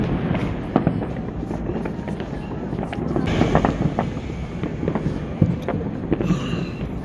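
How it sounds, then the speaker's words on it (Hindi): New Year fireworks and firecrackers bang repeatedly in the open on a foggy night, sharp cracks and pops scattered unevenly over a steady rumble of wind noise, some bursts near and loud, others distant. "अभी भी पटाखे बंद नहीं हुए हैं"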